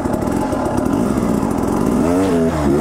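A dirt bike engine revs hard and steadily while the rider holds a wheelie on an enduro trail, the pitch rising and wavering toward the end as the throttle changes, loud and close throughout.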